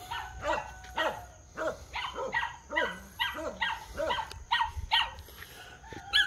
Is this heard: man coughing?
no